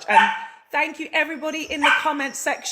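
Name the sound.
dog barking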